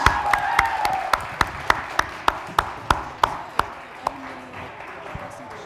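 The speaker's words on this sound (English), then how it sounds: "a round of applause, everyone." Applause from an audience at a student elections presidents' question time event, rising as a scattered clapping crowd with sharp individual claps standing out, then fading and thinning toward the end.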